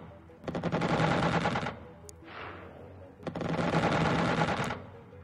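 Two long bursts of rapid automatic gunfire from a squad firing in the turn-based strategy game Xenonauts, loud and close, separated by a short whooshing sound in the pause between them.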